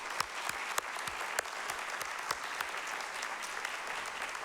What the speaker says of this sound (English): Please join me in applauding our dedicated council and school committee and President